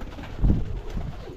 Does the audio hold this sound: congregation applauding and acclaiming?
no